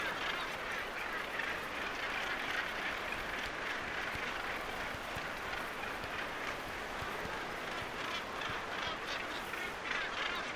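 A dense gannet breeding colony on sea cliffs, a constant wall of harsh overlapping calls and honking cries from many birds at once, steady and loud throughout with no voices.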